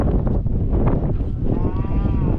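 Cattle in a field along the Six Dales Trail give a low, drawn-out moo that rises loud and near, over steady rumbling outdoor noise.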